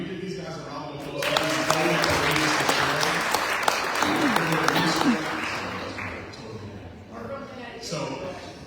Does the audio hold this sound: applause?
yes